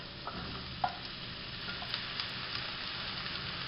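Mushrooms dropped into hot oil in a saucepan hiss and crackle steadily throughout, a continuous sizzle with small pops and clicks and no talking.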